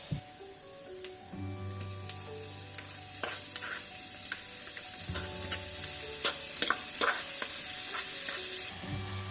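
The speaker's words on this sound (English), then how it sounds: "After adding the onions, fry them till they start sweating" Chopped onions frying over red chili powder in a pan for peas pulao, a steady soft sizzle with occasional clicks and scrapes of stirring, close but fairly quiet, no voices.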